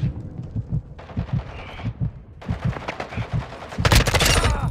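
Rapid gunfire from a military shooter film, bursts of shots rattling through a dense mix of battle effects and shouted voices, swelling into a louder, harsher volley near the end.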